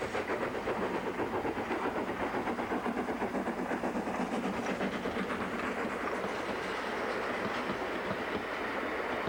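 Lancashire & Yorkshire Railway No. 957, an old steam locomotive on the Keighley & Worth Valley Railway, heard running with a steady rhythmic chuff and clickety-clack of wheels, continuous and fairly close, with no talk.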